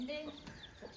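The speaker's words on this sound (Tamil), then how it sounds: "ஆமாம் கோழி குஞ்சு" Brief chirps and soft clucks from chicks and chickens in a home setting, faint and close, with a voice briefly underneath.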